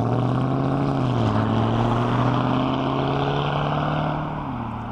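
The V8 exhaust of a Rover 75 at a farm shop car meet holds a loud, steady throaty drone close by, its pitch dipping and shifting a couple of times before easing slightly at the end, without talking.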